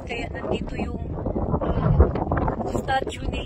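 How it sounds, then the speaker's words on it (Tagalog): Strong mountain wind buffets the microphone at a hilltop war memorial in Romania, a rough continuous roar under someone talking close by. "Sobrang hangin."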